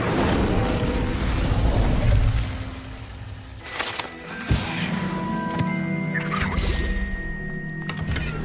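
Incendio fire spell cast in Hogwarts Legacy, a roaring whoosh with crackling bursts, a sharp pop midway, then layered magical shimmer and mechanical game effects, continuous and loud without talk.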